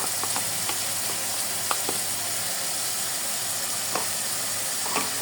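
Ginger and garlic paste sizzling with dried meat in a pan, a steady close frying hiss with scattered soft scrapes of stirring and no voices.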